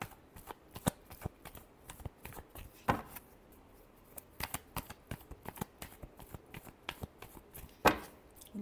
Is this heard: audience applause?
no